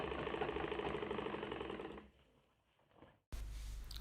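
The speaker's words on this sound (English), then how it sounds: "You just have to sew it down." Sewing machine stitching down the pleats of an agbada, running in a steady fast burst for about two seconds, then tapering off before a short pause and another loud run at the end.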